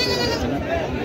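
At a busy goat market at Baneshwar, a Totapuri goat lets out a loud, wavering bleat close by, while people chatter in the background.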